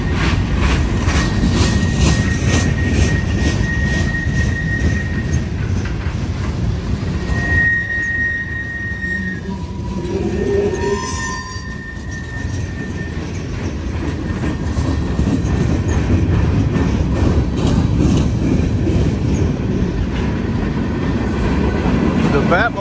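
A freight train hauling boxcars rolls past on an elevated rail curve, a loud continuous rumble and clatter of wheels with a few high squealing tones midway, lasting throughout.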